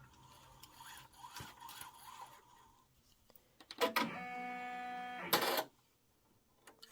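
A Brother embroidery machine's automatic needle threader moving forward and back, a short mechanical whirring and buzzing run with a sharp start and stop, preceded by quieter clicks and handling noises.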